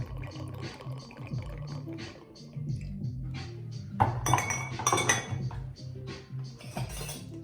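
Spiced moonshine cocktail of pumpkin syrup and apple cider being stirred, with repeated close metal-on-glass clinks and rattling that grow busier midway, while someone talks throughout.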